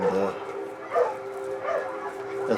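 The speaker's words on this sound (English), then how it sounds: "that's what the barking is all about out there" Dogs bark and yip outdoors in a few short bursts, moderately near, under someone talking indoors.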